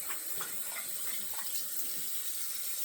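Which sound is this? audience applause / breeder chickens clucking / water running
water running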